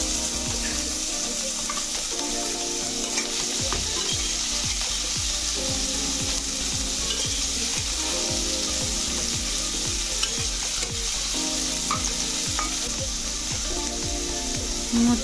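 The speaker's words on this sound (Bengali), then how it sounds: "এবার আমি গাজরগুলো দিয়ে কিছুক্ষণ ভেজে নেব।" Carrots fry in a pan for moong dal with a steady, close sizzle and crackle, joined by occasional stirring scrapes throughout.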